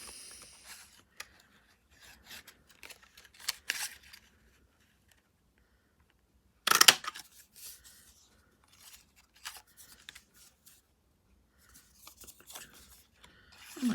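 Scissors snip a paper sentiment for a handmade card with soft, scattered cuts and rustles, one louder crisp snip midway, close and quiet with long pauses between.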